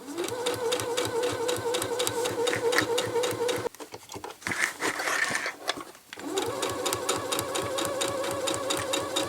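A sewing machine stitches a double-face placemat with a fast, even mechanical chatter, pauses briefly for some handling noises, then resumes its steady run.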